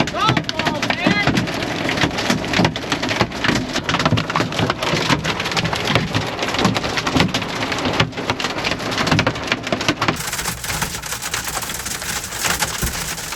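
Heavy rain and hail pound down at a campground during a storm, a dense continuous roar of drumming impacts with thunder rumbling underneath, loud and close throughout.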